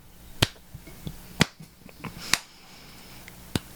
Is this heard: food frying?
no